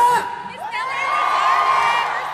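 A group of voices shouts together in a brief rising yell, loud and close, fading into a sustained collective cry.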